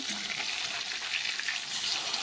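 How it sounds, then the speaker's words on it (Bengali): Fish pieces frying in a pan, a soft continuous crackling sizzle with faint stirring, fairly quiet and steady, no voices. "উল্টে পাল্টে মাছ ভাজা চলছে।"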